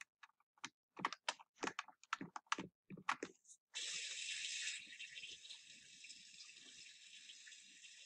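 A shower runs in the Roblox Bloxburg game as a steady, loud hiss of spraying water that starts abruptly after a few seconds of scattered clicks and taps, then continues unbroken.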